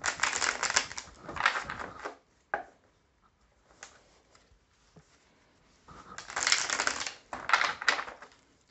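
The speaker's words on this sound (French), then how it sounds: "je vais bien mélanger les cartes." Playing cards being shuffled by hand for a tarot-style reading, two clear riffling bursts at the start and end with quieter handling and pauses between, close up and crisp.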